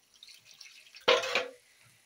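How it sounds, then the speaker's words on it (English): Water splashes into a cooking pot for beef pilau in a home kitchen, one short, close splash after a quiet moment, with faint background noise before and after. "I'm going to put water here,"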